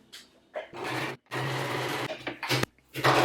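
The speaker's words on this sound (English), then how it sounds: "So let's sew 5/8 of allowance again" Short bursts of a sewing machine stitching a seam with a 5/8 allowance, several runs of steady, close whirring separated by brief pauses and soft handling noises.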